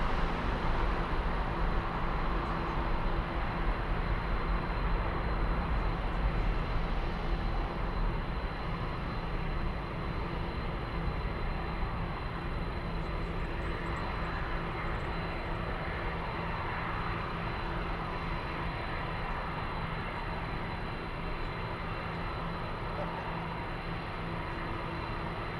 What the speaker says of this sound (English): A340 powering up.